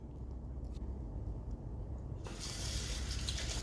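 Water is poured onto rice in a pot to wash it, a faint trickle and low rumble that gives way to a brighter, louder gush of running water near the end.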